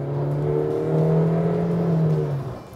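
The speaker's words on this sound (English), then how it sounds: "it is mated to a continuously variable transmission that does get pretty buzzy when you get on the gas" A 2021 Honda CR-V four-cylinder paired with a CVT drones loudly under acceleration, one sustained buzzy engine note rising slightly in pitch and holding steady for a few seconds before easing off, heard from inside the cabin.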